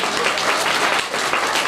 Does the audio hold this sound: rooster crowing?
no